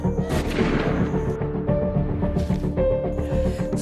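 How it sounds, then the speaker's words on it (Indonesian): A gunshot rings out in the backwoods horror film Wrong Turn 2, a sharp loud blast with a booming tail, followed by further thuds and rumbles amid the dramatic soundtrack. "berhasil membunuh psikopat dengan menembaknya."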